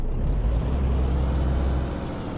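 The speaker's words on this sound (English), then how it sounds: "I don't know so much about that Jake brake sound." A Peterbilt 387 truck in Euro Truck Simulator 2, pulling an oversized load, gives a loud, steady, low engine-brake rumble with a thin high whine rising and falling above it.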